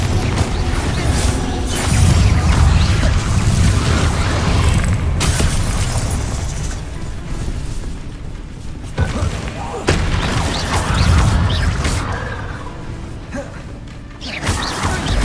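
Explosive spell blasts in Hogwarts Legacy, including Confringo and Bombarda, go off in repeated booming bursts with rumbling thuds between them; they are loud and close, with game voices calling out over the action.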